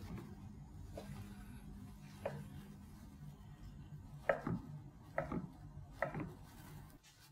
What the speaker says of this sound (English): let's start cutting the rest of the idlis.